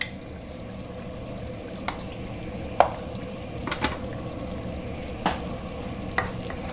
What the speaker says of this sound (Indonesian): tumis-tumis kembali, dimasak kira-kira 10 menit kembali